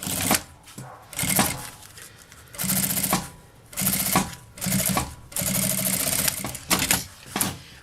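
A domestic sewing machine stitching the lining of a small cosmetic case, loud close bursts of rapid whirring stitching separated by short pauses, about seven runs in succession, no speech.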